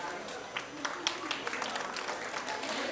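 Applause for teachers at a school Independence Day celebration, a fairly quiet, scattered clapping from a crowd with occasional sharper claps and some voices underneath.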